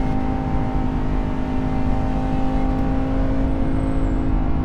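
Lamborghini Huracan Tecnica with the STO-spec 632bhp V10 pulling under acceleration, a steady close in-cabin engine drone that holds at a constant loud level throughout.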